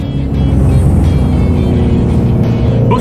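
A Shelby GT350 accelerates hard in second gear from 4,000 RPM, filling the clip with a loud, close, sustained engine roar that pulls steadily throughout.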